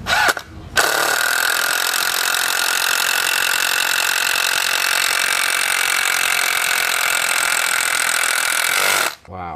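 A Makita TD110D cordless impact driver runs continuously as it drives a screw, a loud, steady rattling hammer-buzz lasting about eight seconds, starting and stopping abruptly with no talk over it.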